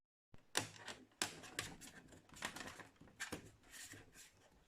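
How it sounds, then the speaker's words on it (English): An HP 22-df0018na all-in-one's white plastic clip snapping into place during a screen replacement: a series of sharp, close plastic clicks and knocks in uneven rhythm, with brief handling rustle between them. "And then you click the white piece."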